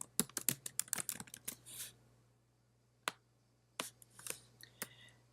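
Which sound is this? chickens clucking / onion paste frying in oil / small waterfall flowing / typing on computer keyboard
typing on computer keyboard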